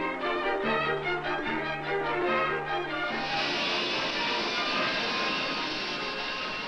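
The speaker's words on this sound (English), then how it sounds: "New planes have been developed that rise vertically and fly at jet speeds." A vertical-takeoff jet plane roars with a loud, sustained engine whine whose pitch shifts partway through into a broader, rushing jet noise.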